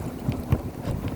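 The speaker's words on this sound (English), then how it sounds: "It's so windy out here." Wind buffets a phone microphone outdoors, a constant low rumbling roar with gusty swells for the whole moment.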